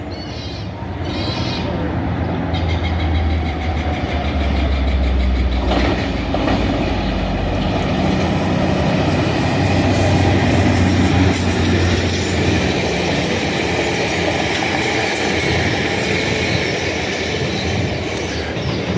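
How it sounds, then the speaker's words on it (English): Northbound Metro Transit North Star commuter train passing through Northeast Minneapolis, a loud sustained rumble with rhythmic clickety-clack of wheels, some wheel squeal and birds faintly audible. "here comes a northbound Metro Transit commuter train"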